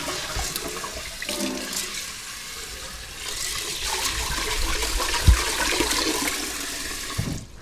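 Water runs and splashes steadily, with sloshing and a few knocks as rice is rinsed in a pot under a flowing tap.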